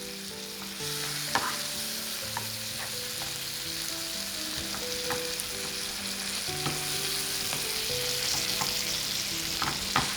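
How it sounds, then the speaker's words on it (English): Sardines in tomato sauce sizzle in a frying pan while a utensil stirs, steady hiss under repeated light scrapes and taps against the pan, close, with no talking. "Also add in the other sardines with the tomato sauce. Mix that in."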